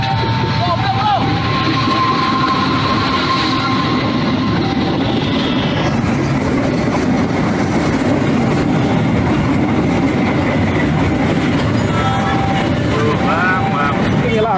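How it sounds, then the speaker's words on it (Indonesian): A KRL commuter train and a freight train pass at once at a railway crossing in Indonesia, a loud, steady rumble of wheels and rolling stock close by, with a rising horn-like tone near the end. "ia terjebak di antara 2 jalur rel kereta karena pada saat yang bersamaan melintas KRL dan kereta pengangkut"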